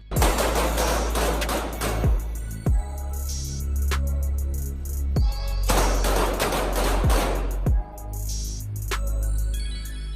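Pistol shots in loud rapid strings at an outdoor shooting class, several bursts of cracks with ringing decay between them, close and with no voices.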